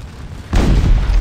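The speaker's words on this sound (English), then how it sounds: "I'm taking tremendous artillery fire" A single heavy boom of artillery fire bursts in after a brief quiet in the Napoleonic battle game Scourge of War: Waterloo, a loud, deep explosion that rumbles on for most of a second.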